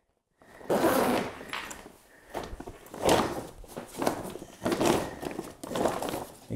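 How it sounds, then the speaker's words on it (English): Someone zips the fabric door of a Gorilla Grow Tent closed, a series of rasping zipper pulls in uneven bursts with short pauses between strokes, close and fairly loud. "So we're just going to zip the door all the way up."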